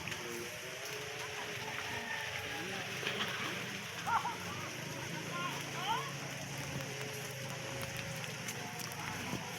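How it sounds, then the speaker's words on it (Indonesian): Rain falls steadily near a grave site in Bendasari, a soft continuous patter and hiss on the surroundings, with people talking quietly over it and a few brief louder sounds. "Kebetulan dikasih anugerah hujan ya"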